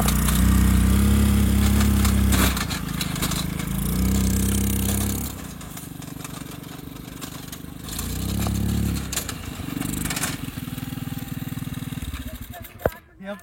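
A homemade Formula 1 style car powered by a scooter engine runs loudly and close, its buzzing drone rising and falling in surges as it is driven on rough ground, with a voice speaking over it.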